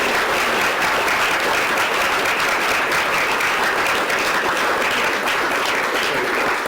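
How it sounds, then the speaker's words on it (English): An audience applauds after a lecture on John Singer Sargent and the Wertheimers, a full, steady roar of many hands clapping at constant loudness throughout. "So let's have a round of applause for Jean"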